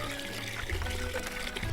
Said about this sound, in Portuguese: Bastam algumas bombeadas para que logo a água comece a jorrar da cisterna e encher o balde.